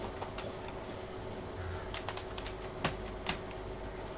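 Soft clicking keystrokes tap irregularly on a keyboard, quiet and close, with a couple of sharper clacks near the end.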